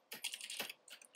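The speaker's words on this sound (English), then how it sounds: "if I hit tab," Computer keys clack in a quick burst of crisp taps at close range, a few separate presses ending in lighter clicks, with no voices.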